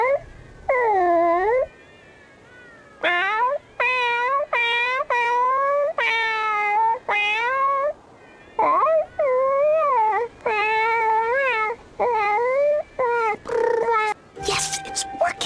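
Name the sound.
cat meowing and wailing in a video game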